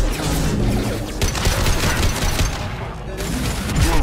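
Crates on cargo ships in the video game Mass Effect 2 burst in dense, crackling explosions, a rapid run of loud blasts and debris rattle that carries on without a break.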